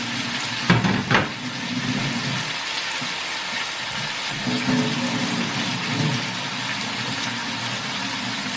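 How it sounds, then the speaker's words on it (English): Running tap water pours steadily as hands are washed in a home kitchen, a close, continuous hissing splash with a couple of louder bursts early on, and no talking. "I'm just washing my hands"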